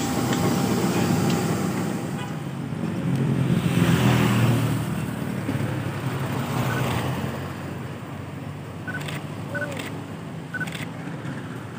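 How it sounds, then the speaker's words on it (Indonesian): A KRL electric commuter train rolls slowly across the Kalioso rail bridge under escort, giving a continuous low rumble that swells midway and then eases, with faint clicks and a brief tone near the end. "KRL berjalan secara perlahan dengan pengawalan dari petugas."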